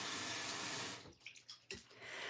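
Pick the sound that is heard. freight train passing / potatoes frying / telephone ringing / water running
water running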